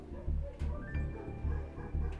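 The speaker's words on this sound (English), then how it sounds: "Just dogs barking." Several dogs bark in repeated, rhythmic bursts, fairly close and steady, with some yips and whimpers mixed in.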